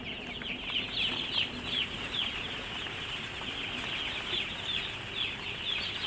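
Chicks and hens on a small farm, kept inside a house, clucking and peeping continuously at close range, with occasional wing flaps amid the busy chatter.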